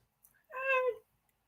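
A single clear, drawn-out cat meow, close and fairly loud, lasting about half a second against a quiet background, with no talking.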